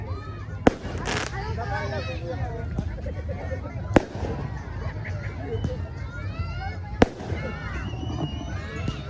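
Fireworks crackle and pop amid a lively crowd at a year-end party, with a few sharp loud bangs standing out over constant chatter and cheering.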